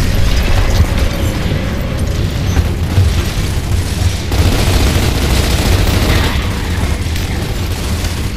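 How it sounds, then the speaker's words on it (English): A frag grenade goes off in the game Gears of War amid dense, loud battle noise, with booming low rumble and clattering mechanical sounds running steadily throughout. "Incoming frag!"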